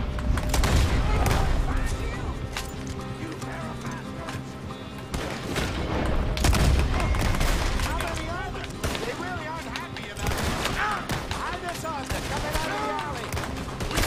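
Repeated gunshots crack through a Red Dead Redemption 2 shootout, arriving in irregular bursts and scattered single reports beneath frequent shouting voices.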